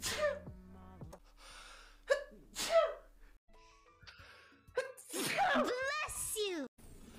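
Several sharp human sneezes, each a sudden burst of breath, scattered among bits of nearby talk and other voices, loud and close.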